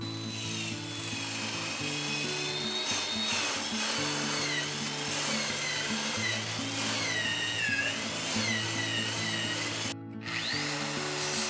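Mortises being cut by hand in a 120mm square timber ridge beam for a woodshed, a steady droning power-tool whine with grinding wood texture, continuous and fairly close, pausing briefly once.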